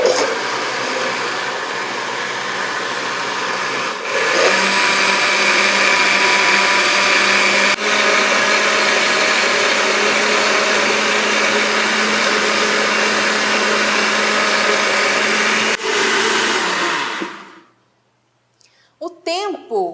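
A blender grinds cashew nuts into vegan condensed milk, a loud, steady whirring roar that holds for about seventeen seconds, then stops abruptly, leaving a few faint clinks.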